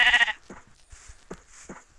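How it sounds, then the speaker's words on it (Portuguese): A sheep in a video game bleats loudly once, followed by a few quieter game sounds and short bleats close by. "Matar essa ovelha que eu preciso de ovelha."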